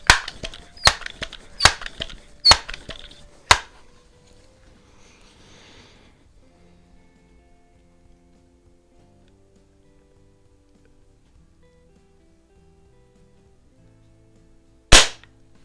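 A Crosman 66 Powermaster .177 multi-pump pellet rifle fires sharp, close cracks: five quick shots in a brisk series, then a long quiet gap before one more crack near the end.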